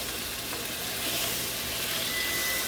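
Potatoes fry in a pan with a steady, dense sizzle that fills the whole stretch, close and loud, with faint crackle as they are turned over.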